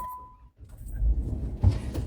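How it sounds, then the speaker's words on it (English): A car is shut off and keys jangle close by, a short metallic rattle over a low rumble that swells after a brief quiet gap, with no talking. "Let me turn off my car"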